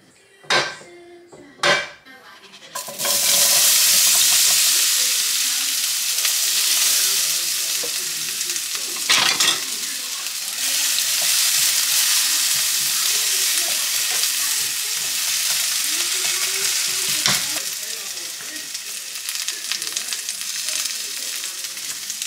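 Cut potatoes fry in a pan with a loud, continuous, close sizzle that holds for most of the stretch. A few utensil knocks and stirring scrapes come at the start and occasionally through the frying.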